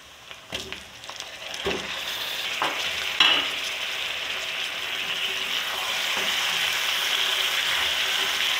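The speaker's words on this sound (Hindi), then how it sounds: "बस अच्छी तरह चिकन भून रहा है" Chicken pieces frying in spiced oil in a pan for shami kabab: a steady sizzle broken by a few sharp scrapes and stirs early on, close and moderately loud, the sizzle growing a little fuller toward the end, with no talking.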